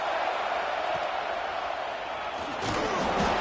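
Football stadium crowd roaring steadily through a second-down play near the red zone, a dense, loud wall of cheering with a surge near the end, heard under faint commentary.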